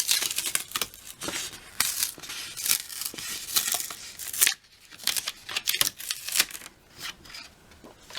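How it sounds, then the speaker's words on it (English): Paper peeled and lifted off the mat of an electronic cutting machine, giving a run of crisp crinkling, rustling and tearing sounds in uneven bursts, close and fairly loud, with no talk. "So I'm going to lift up my paper."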